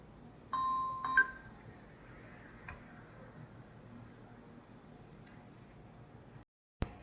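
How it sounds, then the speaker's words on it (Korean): A mobile phone left off vibrate sounds a short melodic ringtone near the start, loud and close, then stops. Faint ticks and clicks follow in a quiet room. "전화벨이 울려서 순간적으로 당황을 했습니다"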